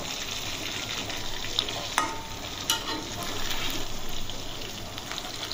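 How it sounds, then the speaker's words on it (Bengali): Fish frying in hot oil in a covered pan makes a steady, close sizzle, broken by a few sharp clicks and taps. "আর মাছ বা পাঙ্গাস মাছ এভাবে ঢাকা দিয়ে যদি আপনি ভাজেন তাহলে তেল ছেটার ভয়টা আর থাকে না"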